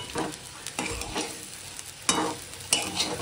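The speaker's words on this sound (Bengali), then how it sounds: "এখন নাড়িয়ে চাড়িয়ে নামিয়ে দেবো" A spatula stirs coriander leaves through a frying dish with ghee, making several distinct scraping strokes over a soft, low sizzle, close by and fairly quiet.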